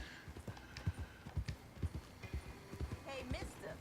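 Horse hooves clip-clop in steady rhythm in the Red Dead Redemption 2 video game, close and distinct, with a short whinny-like sound near the end.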